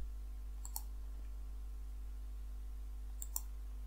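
Two pairs of quick, faint computer mouse clicks spaced a few seconds apart while setting up a macOS-style theme on Linux Mint, close up over a quiet background hum.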